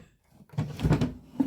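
A drawer in a home apothecary storage unit holding salve tins slides and bumps shut, giving a short burst of wooden knocks and scraping after a quiet moment, with a small thud at the end.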